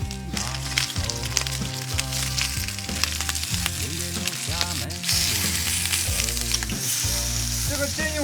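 Lamb chops sear steadily in a hot pan, giving a dense, close, continuous sizzle and crackle with occasional stirring and no talk.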